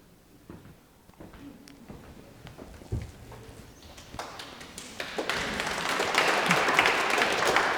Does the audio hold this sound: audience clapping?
yes